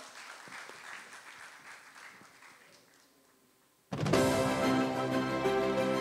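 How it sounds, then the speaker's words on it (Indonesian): Loud, dense applause bursts in suddenly from an audience at a Jakarta talks and discussion event, welcoming a speaker after a quieter stretch of room noise. "berikan tepuk tangannya sekali lagi untuk Bapak Nararya Suprapto"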